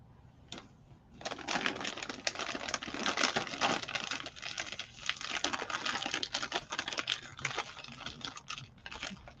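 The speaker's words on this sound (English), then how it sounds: "Sorry for the crinkling." A snack bag crinkles close by in a quiet room, with dense crackling bursts of plastic rustle that start after a brief pause and continue irregularly throughout.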